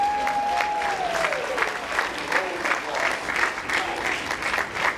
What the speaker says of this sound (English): It's called a rolling applause, so you don't stop